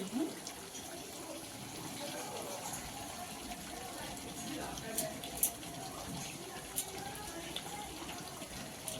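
Water is poured into a pot of chicken curry with potatoes, giblets and liver, giving a steady, soft splashing gush, with a faint voice in the background.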